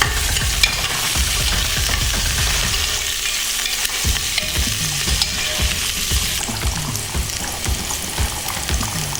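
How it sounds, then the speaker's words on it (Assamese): Onions frying in ghee being stirred in a pan for a meat polow, with a continuous close sizzle broken by repeated scraping and clinking strokes of the spoon against the pan. "এনেকৈ লৰাই থাকিব"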